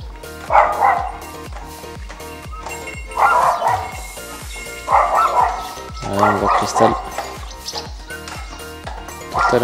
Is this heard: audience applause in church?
no